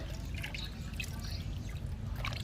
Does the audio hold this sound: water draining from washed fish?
yes